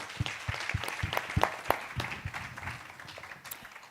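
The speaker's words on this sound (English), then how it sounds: "I think they deserve another round of applause, ladies and gentlemen, given their efforts." Applause from a conference audience honouring four panelists at a regional health gathering, a scattered round of claps, moderately close and fading toward the end, with no talk over it.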